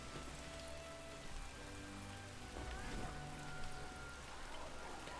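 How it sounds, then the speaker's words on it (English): Freezing Rain spell effect from the Age of the Ring strategy game, a steady, dense hiss of rain pattering on surfaces with faint tonal game music beneath, continuous and even throughout. "Freezing Rain is going to be such a headache for Gondor"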